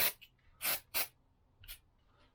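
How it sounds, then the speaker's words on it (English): Short hissing aerosol bursts of brake cleaner sprayed onto a Lambretta scooter brake, three strong blasts and a weaker fourth, close and loud with quiet gaps between. "I'm going to spray some brake cleaner in here and give it a good clean out."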